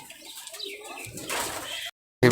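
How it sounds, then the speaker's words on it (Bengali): A male giribaj pigeon, a Rajshahi local high flyer, gives a soft, brief coo close by with faint rustling before the sound cuts off abruptly. "এটা একটা নর কবুতর"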